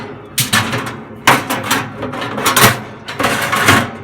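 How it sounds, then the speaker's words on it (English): Metal grates clank and rattle sharply as they are set back into a Big Horn 1093 pellet grill, several loud, irregular knocks and scrapes close to the microphone. "Grates thrown back in."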